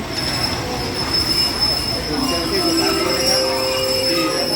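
Thai rapid train 141 (railcar set) rolling past with a sustained high metallic wheel squeal over steady rumbling rail noise, close and fairly loud throughout.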